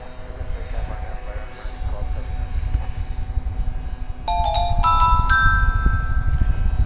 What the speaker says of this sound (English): This is American Flight 1279. It's going to San Antonio, Texas,